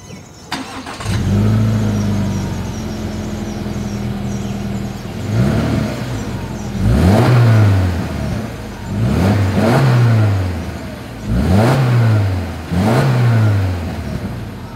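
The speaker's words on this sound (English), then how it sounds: "As always, here is that exhaust clip." A 2024 Subaru Impreza's exhaust starts up and settles into a steady idle, then rises in five or six sharp revs that each drop back quickly. The sound is loud, close and steady, with no talk over it.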